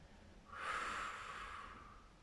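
A single soft, airy breath, slow in and out, quiet and close.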